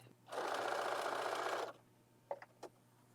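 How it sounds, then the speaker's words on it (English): A sewing machine stitches quilt borders in one steady run of about a second and a half, close and fairly loud, then stops, followed by a few faint handling clicks. "I'll sew these up."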